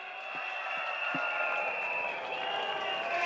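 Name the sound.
crowd applause at SDP rally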